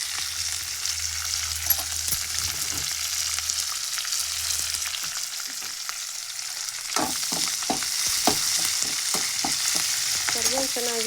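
Curry leaves frying in hot oil for a garlic puffed rice snack, a continuous crackling sizzle close by, with a low rumble early on and stirring scrapes and clatters toward the end.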